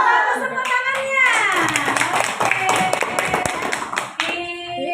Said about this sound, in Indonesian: Bagus tepuk tangannya.